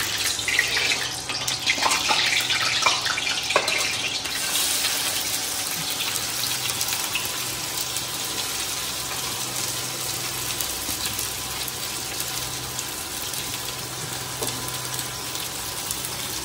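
A kitchen tap runs in a steady, hissing stream for the whole stretch, close and even, with a few faint clinks near the start and no talking.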